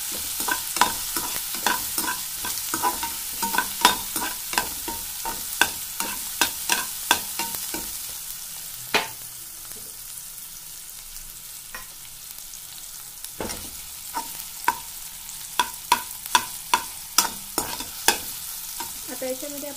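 Garlic being stirred into spring onion bhaji frying in a pan, with a steady soft sizzle under repeated sharp scraping clicks of a spoon against the pan, close and fairly loud, continuing without pause.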